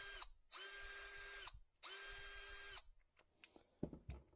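Milwaukee M12 FUEL installation drill driver running in two steady whirring bursts while driving a fastener, followed by light clicks and handling noise.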